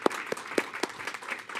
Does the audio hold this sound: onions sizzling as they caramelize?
no